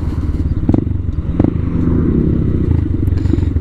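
A motorcycle being ridden, engine droning steadily close up with wind buffeting, a couple of sharp thumps and clatters breaking through the continuous rumble, no talking.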